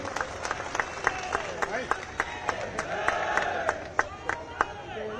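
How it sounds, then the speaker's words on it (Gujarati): Audience applause at a political gathering of the Baroda Dairy in Gujarat, a steady crowd clapping with cheers and sharp claps standing out, heard at moderate level. "તાળીઓના ગડગડાટથી આપણે સૌ વધારીશું"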